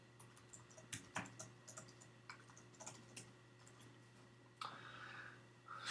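Typing on a computer keyboard while coding a game function, irregular bursts of close, quiet key clicks with short pauses, fairly soft over a faint steady hum.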